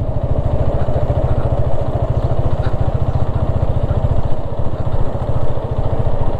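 Vehicle engine idling after starting, a steady close rhythmic low putter with a fast even chug and light mechanical clatter, running alone without talk.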